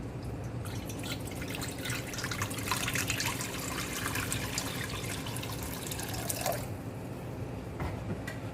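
Water from a tap runs steadily into a cooking pot, about one litre being filled to boil chopped watermelon rind, a continuous close splashing and dripping stream with no talk over it.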